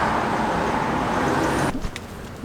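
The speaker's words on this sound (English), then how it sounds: "There's cars going by right now." Cars passing on a street, a steady nearby whoosh of traffic that fades out abruptly near the end and leaves a quieter background.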